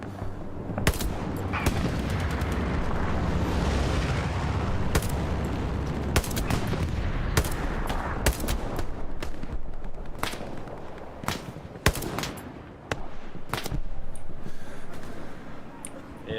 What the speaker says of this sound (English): I'm shooting artillery if you want to adjust pings for me